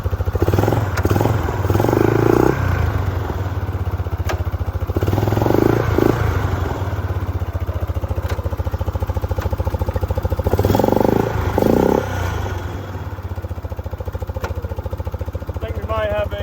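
A Yamaha Grizzly 660 ATV engine runs steadily near the microphone on its first start in almost three years, a loud continuous chugging drone with a few brief throttle swells; no one talks.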